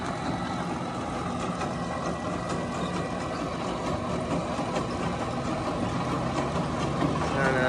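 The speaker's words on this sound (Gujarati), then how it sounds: "જોન્ડિયરનું ટ્રેક્ટર જોવો તમે ખાલી." A John Deere tractor idles close by on a farm, its engine a steady, even low rumble that holds constant throughout without revving.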